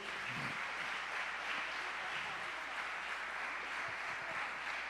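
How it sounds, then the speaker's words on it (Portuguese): Church congregation applauding together in a large worship hall, a steady dense wash of clapping held at even loudness throughout, with faint low murmuring underneath. "Aplauda o Senhor mais uma vez."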